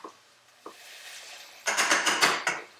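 Ground beef browning in a pan for beef tinaktak, broken up with a utensil: two quick scrapes, then a cluster of five or six rhythmic scraping, sizzling strokes close by, with no talking.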